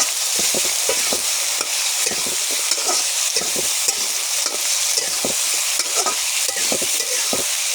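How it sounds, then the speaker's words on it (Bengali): Potatoes fry in a pan with a constant loud sizzle, and a spatula stirs them with repeated scraping strokes in an irregular rhythm. Nobody speaks. "আলুগুলো লাল লাল করে ভেজে দিতে হবে"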